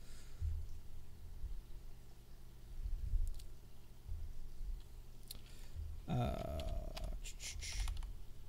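Sporadic keystrokes sound on a computer keyboard as notes are typed into a document, faint and intermittent at first, then a denser, closer burst of clicking near the end over a low background hum.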